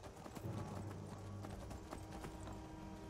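Horse hooves clip-clop in a rapid, even trot in the video game Skyrim, close and fairly loud over a low ambient background.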